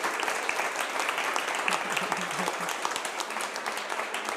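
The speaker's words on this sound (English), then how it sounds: "first a big clap and thanks to Anna" An audience at a policy conference claps for Anna, steady, dense applause from many hands that holds at an even level throughout.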